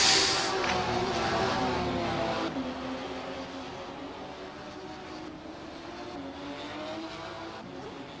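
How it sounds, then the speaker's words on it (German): Porsche GT3 Cup race cars at Oschersleben scream through a chicane, their engines revving loud and close, then easing and climbing again as they brake and accelerate through the turn, with no talking. "der Alex Rambo fährt diese Schikane"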